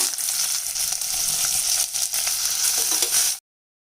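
Large onions with curry leaves sizzle loudly in hot oil for chicken masala, a dense steady crackle that stops abruptly at the end.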